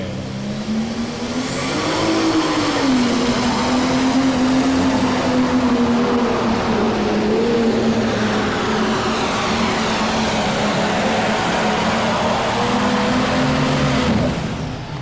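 The Thumper pulling tractor out of Yates City, Illinois makes a full pull at a farm machinery show, its engine roaring loud and steady throughout with a sustained drone that shifts slightly in pitch.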